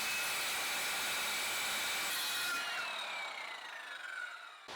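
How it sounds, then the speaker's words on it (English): A circular saw cuts through wood for deck steps, a loud rasping whine that spins down and fades toward the end as the blade slows. "So I switched to my circular saw because my jigsaw broke."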